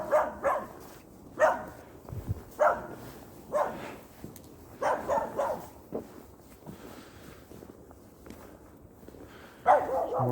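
A small dog barks in short bursts, some quite close, on a snowy winter day in Russia, with footsteps between barks and no one talking.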